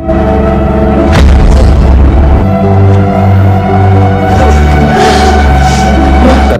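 Loud, deep explosions boom out, with a couple of sharp blasts rumbling over a tense, droning background.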